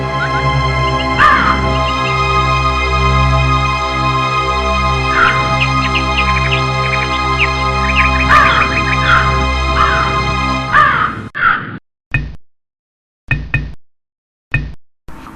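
A crow caws repeatedly in an animated Hindi folk tale about a thirsty crow, loud calls over a steady music bed, ending in a few sharp knocking hits separated by silence.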